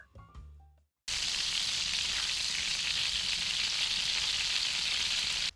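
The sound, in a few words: prawns frying in butter with garlic and cilantro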